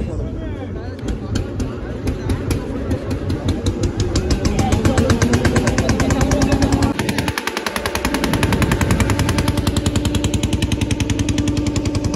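A steady, throbbing engine drones on a passenger ferry boat crossing to Mousuni Island, running loud and continuous with a rapid pulsing rhythm, and voices talking over it.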